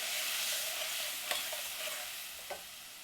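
Asafoetida, turmeric and tomato fry in a pan with a steady, faint hiss. Light scrapes from stirring land a couple of times over the sizzle. No one speaks.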